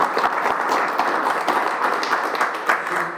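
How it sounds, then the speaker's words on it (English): Applause in a small-town city council meeting room for a departing staff member, a steady patter of clapping from a modest group that carries on evenly throughout, with faint voices mixed in. "So give her a round of applause."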